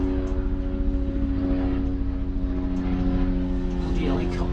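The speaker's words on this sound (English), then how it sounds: "Bloody helicopter be going over here all morning." A helicopter flies over a vegetable garden with a greenhouse, giving a loud, steady droning hum that persists throughout while a person talks.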